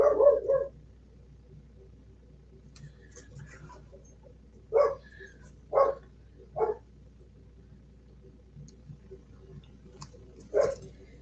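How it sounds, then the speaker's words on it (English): A dog barks outdoors a few times, short separate woofs at irregular intervals, moderately close but not loud, over a quiet background with a soft steady hum. "there's a dog barking out there"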